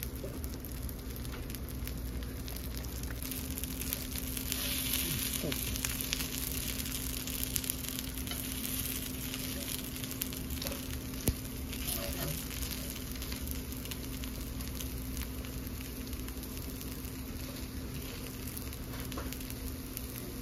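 Drumstick (murungai) leaf dosa frying in a generous amount of oil on a hot pan, giving a steady, even sizzle and crackle that runs throughout at moderate loudness with faint background hum.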